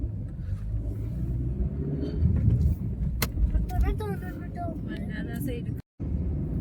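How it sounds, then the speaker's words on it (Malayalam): A vehicle approaches along a hill road at night, its engine rumbling steadily throughout, while people talk nearby and one short whistle-like tone rises over the drone. "ഒരു വണ്ടി കൂടി വരുന്നുണ്ടേക്കാ"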